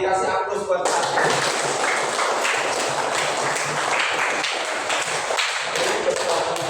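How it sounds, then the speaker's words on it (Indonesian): Classroom applause for a student named Fatin during an Islamic religious education lesson, a steady burst of many hands clapping that fills the room for several seconds after a short spoken lead-in. "Kasih aplaus buat Fatin"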